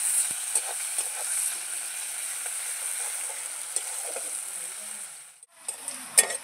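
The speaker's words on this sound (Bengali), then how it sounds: "তেলের মধ্যে দিয়ে দেবো পেঁয়াজ। পেঁয়াজটা একটু ভাজা ভাজা করবো।" Onions frying in hot oil sizzle in a steady, close hiss, with a few light clicks of stirring and a brief dip and burst of crackle near the end, heard alone.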